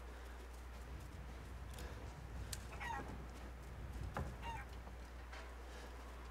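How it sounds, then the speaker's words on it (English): Chickens clucking in the survival horror game Resident Evil Village, a few scattered nearby clucks and squawks over a low steady hum, fairly quiet overall. "Oh my god, I'm chasing chickens again."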